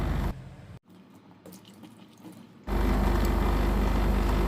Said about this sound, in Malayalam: ഒരു 2-3 പ്രാവശ്യം ആ വെള്ളം ഒന്ന് മാറ്റിയിട്ട് കഴുകിയെടുക്കണം കേട്ടോ